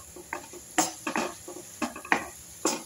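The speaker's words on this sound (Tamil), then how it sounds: "நல்லா கிளறி விட்டுக்கலாம்." Spoon scraping and clinking against a cooking pot as rice with pepper is stirred in a home kitchen, several irregular close knocks and scrapes over quiet background hiss.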